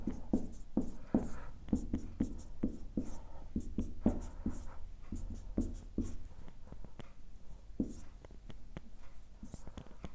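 Chalk or marker taps and strokes on a board during a physics lesson on ray optics, in quick irregular bursts, close and clear with no talk.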